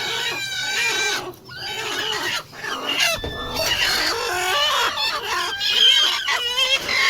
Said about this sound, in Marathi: तिथे राहतात आपल्या कोंबड्या.